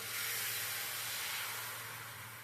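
Instant dosa batter of ragi, jowar and rava flours sizzles on a hot pan, a steady close hiss with a low hum beneath, fading slightly toward the end.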